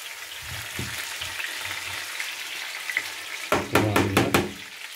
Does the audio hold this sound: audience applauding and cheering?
no